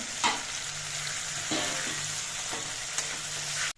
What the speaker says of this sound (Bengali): এই গরম জলটা দিয়ে আমি ঝোল দিচ্ছি